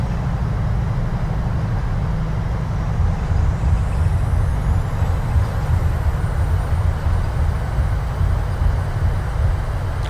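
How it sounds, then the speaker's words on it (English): A steady, loud roar from the thrust reversers of a PMDG 737-700 landing in Microsoft Flight Simulator 2020, a broad low rumble with rising whine that holds continuously through the rollout. "speed brakes are up. And reverses are active."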